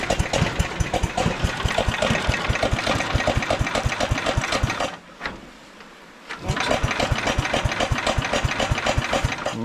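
A 1968 Wheel Horse Commando 8 garden tractor engine runs loud and close with a rough, rapid knocking beat, cuts out briefly for about a second, then fires and runs again.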